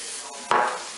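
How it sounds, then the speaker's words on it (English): A short, close hiss of cooking spray bursting onto a waffle maker for about a quarter second against a steady background hum. "Spray your waffle maker"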